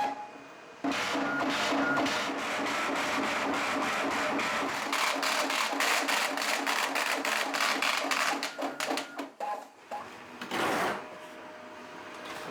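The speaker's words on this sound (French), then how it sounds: "Et ça va sortir sur l'imprimante braille." A braille embosser punches dots into paper, a loud rapid mechanical hammering in dense rhythmic bursts that stops and starts near the end, with a brief pause and another short run.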